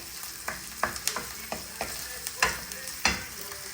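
Onion, ginger and garlic sauté in a pan, with a steady frying sizzle under repeated sharp scrapes and taps of a spoon stirring at close range, no talking.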